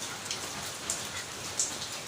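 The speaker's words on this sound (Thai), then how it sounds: "นั่งดูฝนตก ฝนตก" Steady rain hisses down evenly, with a couple of sharper drips standing out; no voices.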